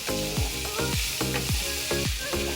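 Yardlong beans (borboti) being stirred in a frying pan: steady loud sizzling with repeated scraping strokes of a spatula at a quick, regular rhythm.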